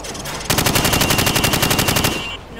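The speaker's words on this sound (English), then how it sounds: "Now, shoot at the targets while firing from the hip." Rapid rifle fire from the hip at targets in Call of Duty 4, a loud, fast burst of roughly twenty evenly spaced shots beginning after a half-second lead-in and lasting about two seconds, with no talking.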